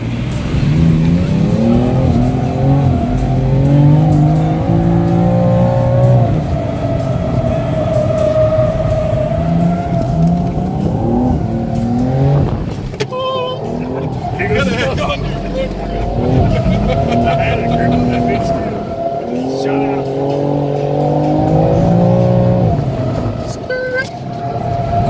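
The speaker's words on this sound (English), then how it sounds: "We're going drifting." Drift car at SEMA 2018 Continental Drift ride-along, engine roaring loud and close from inside the cabin, revs rising and falling through slides with tire squeal, people talking over it.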